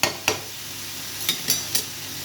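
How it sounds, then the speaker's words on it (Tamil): A lid set on a pan of spicy chicken gravy, one clatter followed by several light metallic taps over a steady low simmer. "இது அப்படியே மூடி வச்சுருங்க, வேகட்டும்."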